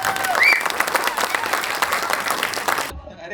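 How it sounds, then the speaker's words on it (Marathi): Audience applause for a film team at a trailer launch event, dense sustained clapping that fills the space loudly before cutting off abruptly near the end. "एकदा सगळ्या टीमसाठी जोरदार टाळ्या होऊन जाऊ देत."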